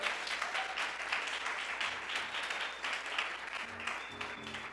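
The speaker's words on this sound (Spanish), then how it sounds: "Aleluya, denle un aplauso al Señor por eso." Congregation clapping in a church, a dense, steady wash of applause filling the whole stretch with a few faint tonal notes near the end.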